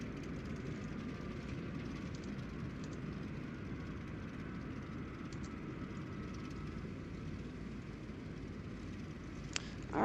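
A simulated Cessna 172 engine idles at low power while taxiing to a hangar in MSFS2020, a steady, even propeller drone held constant throughout without speech.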